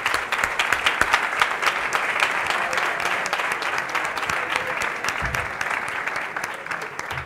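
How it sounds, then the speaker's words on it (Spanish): Audience applause at a sports event on women and values, as an Olympic athlete is welcomed; steady, dense clapping from a large crowd, loud and sustained throughout with no talk over it. "Un aplauso para Eli Pinedo que está aquí."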